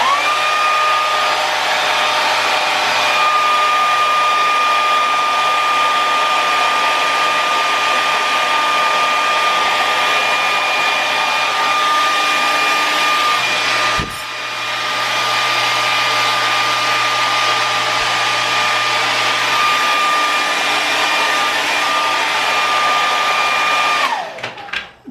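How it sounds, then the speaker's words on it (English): A handheld blow dryer drying short hair, a steady loud whirring hum with a high whine, running continuously close by with a brief dip midway before switching off at the end. "So here we go. Blow dryer,"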